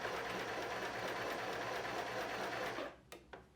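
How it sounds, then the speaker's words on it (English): A sewing machine runs steadily, stitching a line around a dress neckline during a clothing alteration. The close, even mechanical whir lasts nearly three seconds, then stops, leaving a couple of soft clicks. "I'm just going to sew the line of stitching here, and it'll be finished inside and outside."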